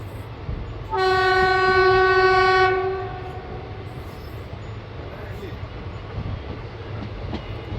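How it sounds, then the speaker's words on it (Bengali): A loud passenger train horn blasts steadily for about two seconds as the train departs Khagraghat station, then fades, leaving a low rumble of rolling railcars and station noise. "খাগড়াঘাট স্টেশন থেকে ট্রেন ছেড়ে বেরিয়ে যাচ্ছে"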